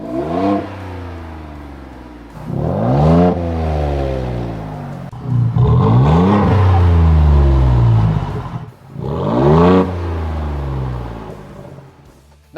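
A 2021-2022 Ford Bronco with a loud, high-clearance Flowmaster exhaust revs hard in four rising, roaring bursts, each sweeping up and dropping back to a rumbling idle, close and alone.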